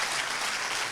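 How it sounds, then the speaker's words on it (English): Audience applause at a business talk, a dense burst of clapping from a large crowd filling the whole moment. "Give her a round of applause"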